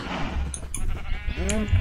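Minecraft cow mooing in a survival farm, a few short bleat-like animal calls over a steady low game background, with a player voice briefly over it.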